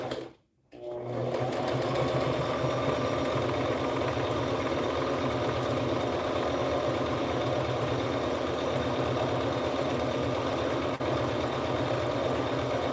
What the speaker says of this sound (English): Making sure you use about a 3/8 or a 1/4 inch seam allowance. Make sure to back stitch.